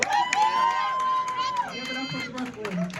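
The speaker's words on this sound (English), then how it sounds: "Give her a hand of applause, for representing us" A crowd at a Black History Month union event for TWU Local 100 cheers and whoops, with a loud voice rising above the noise.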